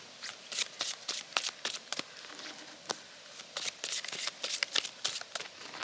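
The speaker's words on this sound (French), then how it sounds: "je mélange une troisième fois et je coupe" Oracle cards from a plant-themed deck are shuffled close up by hand, giving a quick, continuous flutter of crisp riffling snaps for several seconds with no speech.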